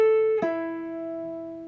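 Clean electric guitar from a guitar solo, one sustained note then a second picked note ringing out and slowly decaying, close and alone.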